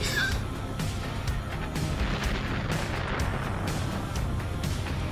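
Artillery projectile guns fire in a space combat video game, a dense continuous barrage of booming shots and crackling bursts layered over a steady low rumble, loud and unbroken.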